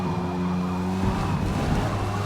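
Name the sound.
race car spinning out with tire squeal, Forza Motorsport video game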